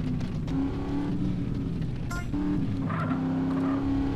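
A car engine roars steadily during a race in GTA San Andreas, holding a buzzing tone that shifts pitch with gear changes, with a brief higher whine partway through and no talking.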